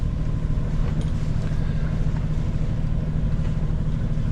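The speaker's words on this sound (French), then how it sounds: "Là j'ai mis un peu de moteur pour éviter que les genoux continuent à claquer devant." A sailboat's auxiliary engine runs steadily as a low, continuous drone under wind and water noise while sailing solo, with no breaks and no talking.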